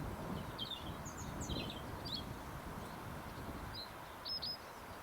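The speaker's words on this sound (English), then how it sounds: "There's a variety of warbler in them bushes that I do not recognise." A warbler sings faint, brief chirping phrases from bushes along the South Downs Way, heard several times over a strong, choppy outdoor wind rumble that dominates the scene.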